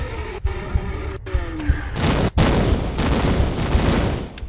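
A giant creature boss in Tomb Raider 2 blows apart into fleshy pieces: a brief tonal whine first, then a loud, dense roar of crackling blasts and rumble that sustains to the end, with repeated sharp bursts.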